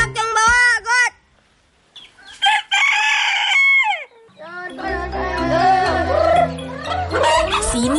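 A male bantam rooster crows up close, with several loud crows and clucking in an Indonesian village yard, followed by mixed chicken calls and background voices.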